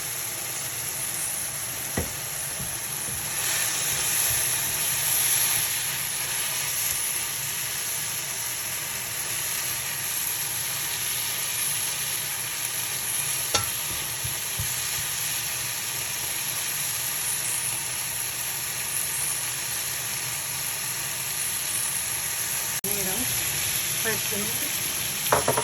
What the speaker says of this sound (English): The shrimp don't need to be cooked a lot. Like 5 minutes in the heat.